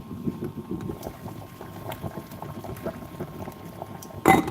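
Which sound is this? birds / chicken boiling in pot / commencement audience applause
chicken boiling in pot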